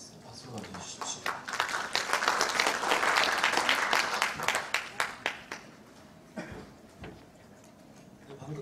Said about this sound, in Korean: 박수로 받아주십시오.